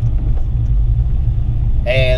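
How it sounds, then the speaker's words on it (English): A car being driven out, its engine giving a loud, steady low rumble throughout, with a voice cutting in briefly at the end. "Get the car out a little bit."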